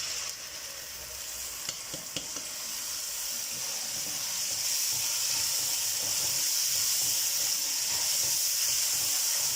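Masala paste for degi aloo gosht sizzling and frying in a pan with occasional stirring, a steady close hiss that grows slightly louder, with no talking.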